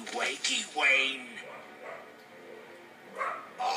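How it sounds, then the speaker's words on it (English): A neighbour's dog barks in a few short yips and bow-wows, moderately near, mixed in with game-character voices talking over most of the stretch. "It's the neighbor's dog."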